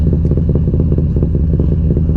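Harley-Davidson motorcycles ride along a road, giving a loud, close, continuous engine rumble with rattling clatter and no pauses.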